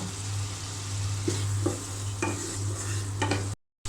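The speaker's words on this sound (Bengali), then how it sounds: "আমি এখন দিয়ে দিলাম আলু। আলুটা আগে একটু ভালো করে কষিয়ে নিব।" Potatoes stir-fried in spiced masala in a pan sizzle steadily under a low hum, with a few clinks and scrapes of a spatula stirring, ending in a sudden brief cut to silence.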